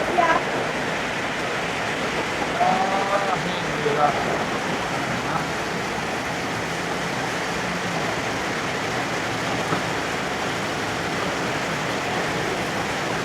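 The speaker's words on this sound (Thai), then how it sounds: "ฝนตกฝนตก" Heavy rain pours during a storm in southern Laos, a steady dense hiss that continues throughout, with brief voices early on before the downpour continues alone.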